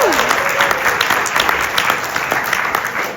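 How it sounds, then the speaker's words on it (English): A film screening audience at the Japan Society applauds steadily and loudly throughout, dense clapping filling the room from start to finish with no pause. "a massive round of applause to our friends at A24"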